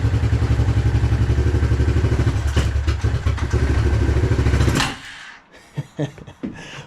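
A 1993 Suzuki King Quad 300 4x4 ATV idles loud and close with a steady, fast low thumping rhythm for several seconds, then cuts off abruptly, leaving a few faint clunks and rustles.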